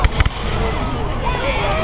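Bonfire night fireworks pop in a few sharp bangs at the start, then leave a dense, steady crackling roar outdoors.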